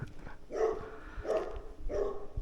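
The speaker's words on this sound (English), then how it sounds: "Just disturbed the local dog." A local dog near a lake-view countryside property barks three times at a moderate distance, evenly spaced about two-thirds of a second apart, with light outdoor background noise and no speech.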